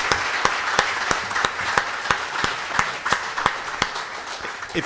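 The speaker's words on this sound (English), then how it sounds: "please give a warm round of applause for one of our..." Audience applause for a panelist at the close of a panel discussion, dense sustained clapping with a few sharper individual claps standing out, steady and fairly close throughout.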